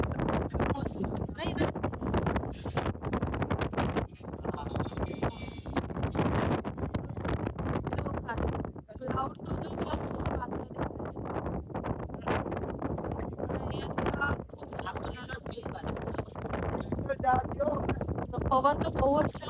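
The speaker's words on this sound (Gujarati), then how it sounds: "પવન તો બહુ જ છે." Strong wind buffets the microphone on a hill-station viewpoint at Saputara, a loud, continuous rumbling roar that dips briefly midway, with voices talking over it throughout.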